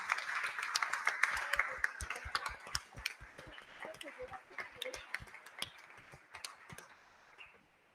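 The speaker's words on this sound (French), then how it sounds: "vous pouvez vous lever voilà, pour les applaudir" An audience at an engineering round-table event applauds the staff, a fairly sparse crowd clapping in distinct, separate hand strikes that thin out gradually, with faint talk in the room underneath.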